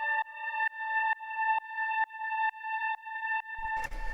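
A sustained dark techno synth chord pulses in even, repeated swells as an LFO rhythmically modulates the volume of oscillator B, each beat dipping and rising again, before a burst of noisy texture enters near the end.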